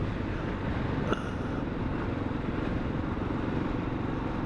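A Kawasaki KLR motorcycle cruising at about 30 mph in third gear, a steady low engine drone blended with wind rush, heard from the rider's position, with one brief click partway through.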